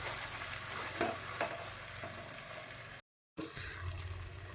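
Ground masala paste sizzles steadily in hot oil while a spoon stirs it with occasional scrapes, a close continuous fry broken by one brief silent gap before resuming for an egg paneer curry.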